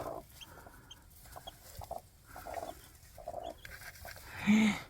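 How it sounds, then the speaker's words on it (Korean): Soft clucking of a hen with faint peeping of newly hatched chicks, quiet and intermittent, ending in a louder cluck. "지금 병아리가 세 마리가 나왔어요"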